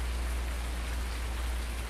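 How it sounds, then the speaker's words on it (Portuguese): Steady rain pours in Farming Simulator 19, a dense, even hiss of falling drops that holds at constant loudness with no talking. "Essa, é com chuva agora."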